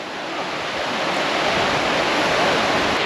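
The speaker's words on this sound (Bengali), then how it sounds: "নদীতে পানি যদিও অনেক কম, তারপরেও ভালো স্রোত, কারণ এইখান থেকে সামনে পর্যন্ত বেশ ঢালু এবং এখান দিয়ে পাথরে ভর্তি।" A shallow, swift mountain river in the Kashmir and Ladakh region rushes over a steep, rock-filled bed. A loud, steady broadband roar of water fills the whole span, rising slightly and carrying no voices.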